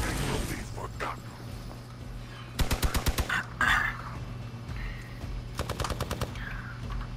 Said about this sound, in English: Oh no, Captain Marvel got shot.